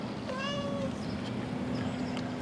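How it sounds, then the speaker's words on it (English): A house cat gives a single short meow, clear and fairly close, over a steady background hum with no other voices. "It's a house cat."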